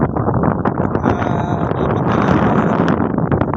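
Loud gusty wind by the sea at a coastal bridge construction site buffets the microphone with a rumbling, blustery roar, continuous and close throughout.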